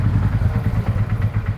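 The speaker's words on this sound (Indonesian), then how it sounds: "pagi ini aku pengen motoran, jalan-jalan sambil manasin motor" A Honda Shadow ACE motorcycle being ridden while warming up, its engine giving a loud, close, low rhythmic thumping pulse with light mechanical clatter over it.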